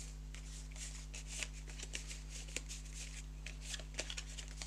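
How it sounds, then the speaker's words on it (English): A deck of cards for a tabletop board game is shuffled by hand at close range, producing a rapid run of soft papery riffles and light taps over a steady low electrical hum. "you make a deck, you give it a shuffle"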